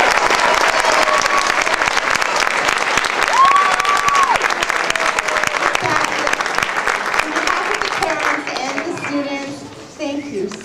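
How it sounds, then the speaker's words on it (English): Loud, sustained applause from a school choir concert audience in December, a dense crowd clapping that gradually thins and fades toward the end, with some voices mixed in. "please another round of applause for our kids"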